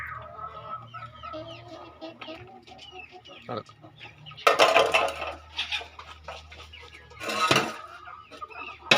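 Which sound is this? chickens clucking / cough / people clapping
chickens clucking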